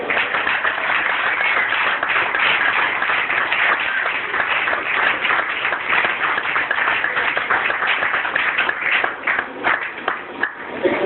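Church congregation applauding together, a dense, steady wash of many hands clapping throughout, loud and close, with voices faintly mixed in.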